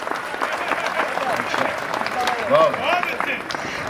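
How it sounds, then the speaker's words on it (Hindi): A crowd at a Hindi kavi sammelan poetry recital in Udaipur claps in a busy, moderately loud wash, with scattered voices calling out over the applause. "समझे हो तो समझा दो मुझे ताली बजा के"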